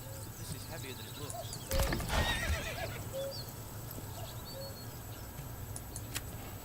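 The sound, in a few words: horse neighing and hooves in video game Manor Lords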